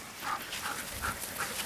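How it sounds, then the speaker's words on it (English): Dogs at a small-town ballpark whimper and yip in a few soft, repeated bursts against steady outdoor background noise, fairly faint and at a distance. "the dogs are needing a little exercise"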